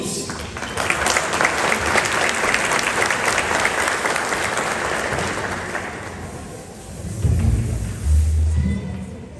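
A church congregation applauds during worship, with steady, dense clapping for about six seconds that then fades, followed by low thumping sounds and a few voices.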